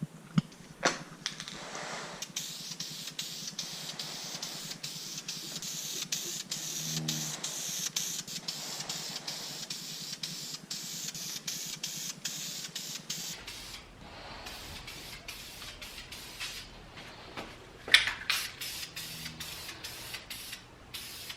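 An MR2 strut bar being spray painted with aerosol coats gives soft hissing bursts separated by short pauses, with faint rattles and clicks of the can, close and without talk.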